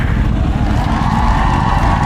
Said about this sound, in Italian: perché gli sgommava una sola ruota?